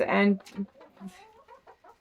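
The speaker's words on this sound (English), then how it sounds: "some of his hens" Hens and a rooster in a backyard coop give several short clucks close by, mixed with a brief word of speech.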